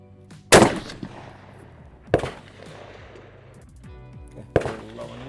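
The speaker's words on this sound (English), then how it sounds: "we're going to get some shots down range" A Savage Axis XP bolt-action rifle in 6.5 Creedmoor fires three loud, sharp shots at an outdoor range, spaced roughly two seconds apart, each with a short echoing tail.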